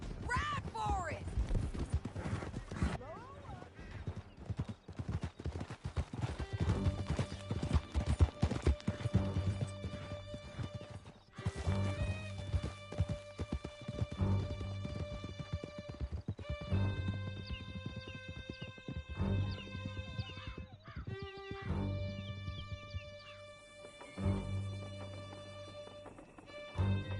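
Several horses gallop through a canyon in Red Dead Redemption 2, their hooves drumming in a fast, steady clip-clop with the odd whinny, over a music score and distant gunfire.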